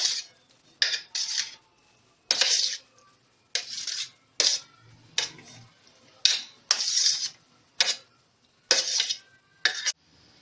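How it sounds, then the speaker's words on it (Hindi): Raw mango cubes dropped into a cooking pot, a string of sharp separate clatters and knocks at irregular intervals with quiet gaps between them, close and clear with no talking. "आमों के जो क्यूब्स हैं आप इसमें डाल देंगे।"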